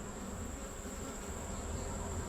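Honey bees buzz in a dense, steady hum throughout a late September hive inspection, close and continuous, with no talking.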